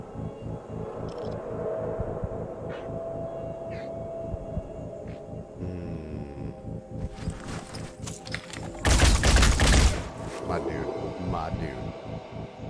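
Gunfire in the video game Phoenix Point comes as a single loud burst of about a second near the end, set against steady game background sound, with a voice talking.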